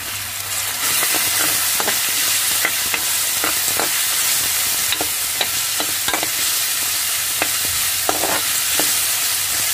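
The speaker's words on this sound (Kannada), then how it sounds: "ಈಗ ನೋಡಿ, ಉದ್ದುದ್ದ ಹೆಚ್ಕೊಂಡಿರೋ ಈರುಳ್ಳಿ ಹಾಕ್ತಾ ಇದ್ದೀನಿ." Sliced onions fry in a pan, a steady loud sizzle with intermittent stirring scrapes and clinks throughout, no voices.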